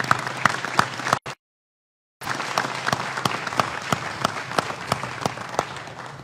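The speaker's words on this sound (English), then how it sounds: "I think we should clap for" Audience applauding at a legislation signing, a steady crowd of many hands clapping, broken once by a short silent gap before the clapping continues.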